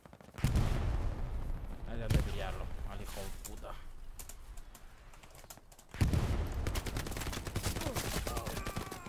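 Gunfire in a Hell Let Loose match: sharp bursts and rapid rattling volleys crackling loud and close in two main clusters, with someone speaking over the shooting.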